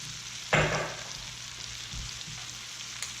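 Onions, carrots, celery and mushrooms hit a hot saucepan with a sudden sizzling burst, then settle into a soft, steady sweat and low crackle, close and alone.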